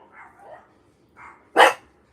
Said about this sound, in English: Okay, Wood Dog. It's enough